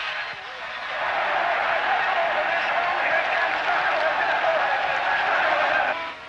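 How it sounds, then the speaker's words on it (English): A large crowd at the 1977 Dutch TT motorcycle race in Assen cheers and roars in a sustained wash of noise that swells, holds for several seconds and then eases off. "The crowd goes completely wild as Hartog becomes the hero of Holland."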